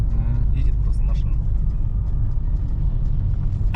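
A 2014 Honda Vezel with a lean-mixture fault and ignition misfires drones with a heavy low engine rumble while driving, straining and pulling weakly, as people talk inside the car over it.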